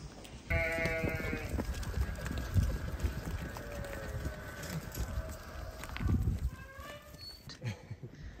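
Sheep and newborn lambs on a farm at lambing time, with repeated close, wavering bleats from several animals over rustling and shuffling movement.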